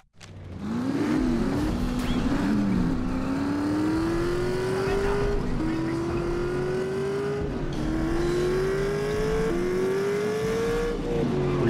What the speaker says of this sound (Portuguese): olha esse carro aqui, galera. Parece um carro de Fórmula 1.